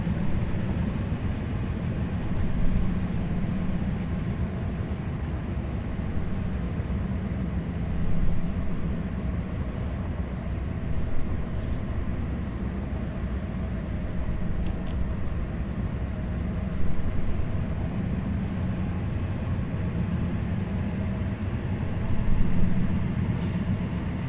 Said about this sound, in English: Bring this train home.